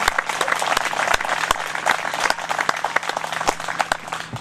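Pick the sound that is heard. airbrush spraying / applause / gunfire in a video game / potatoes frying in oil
applause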